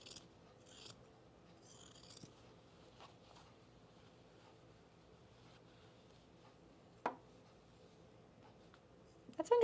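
Scissors trimming and clipping the fabric curves of a Carolyn pajama top, soft faint snips and a few sharper close clicks scattered across a quiet background.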